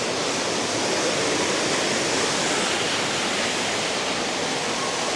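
A roaring multi-stage waterfall on a southwestern hike, with wind blowing cold mist off the falling water; a dense, steady broadband rush fills the whole stretch, loud and continuous with no voices.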